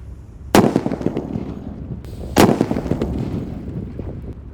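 Two paper-wrapped firecrackers burst in quick succession outdoors on a late afternoon, each a loud sharp crack followed by a rumbling, crackling tail, about two seconds apart.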